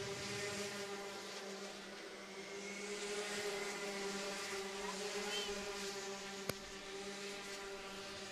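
Rotax Senior Max racing karts roar around the track in Tucson, making a faint, sustained, buzzing engine drone that rises slightly in pitch as they pass, with one sharp click near the end.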